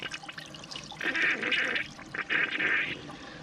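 Water rushes and gurgles as a toilet tank drains after a flush during an overflowing-toilet repair, two louder surges of flow over a steady wet background, close and moderately loud with no talk.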